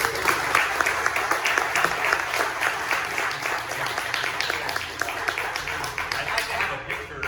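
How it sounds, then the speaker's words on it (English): An audience at a business talk gives a round of applause: many hands clapping in a sustained, even patter for about seven seconds, with voices mixed in. "let's give a round of applause"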